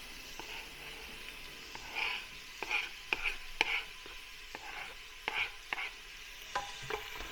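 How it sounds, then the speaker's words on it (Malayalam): Shallots sautéing in a hot pan for a Kerala pumpkin curry, a faint steady sizzle broken by light scattered clicks and taps of a spoon against the pan, close and quiet, with no talking. "ചെറിയ ഉള്ളി ചേർക്കുന്നു. നന്നായിട്ട് ചൂടായിരിക്കുകയാണ്."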